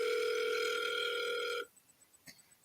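Telephone tone holding steady for about a second and a half, then cutting off, followed by a few faint clicks and one short sharp blip.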